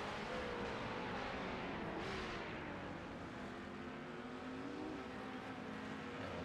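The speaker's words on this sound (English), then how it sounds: "Some celebration burnouts going on for Dylan O'Shea" GT3 race cars in iRacing at Misano doing celebration burnouts, a steady broadband engine and tyre roar that holds throughout, with pitch sweeps as revs rise and fall, loud and continuous without talk.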